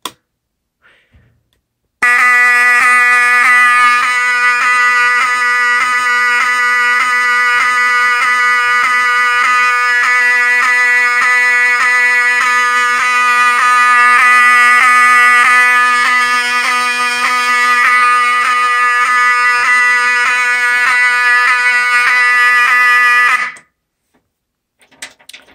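A small fire alarm system with three active zones, triggered from a key switch, sounds a loud steady electronic tone with a rapid pulsing pattern for about twenty seconds and then cuts off abruptly.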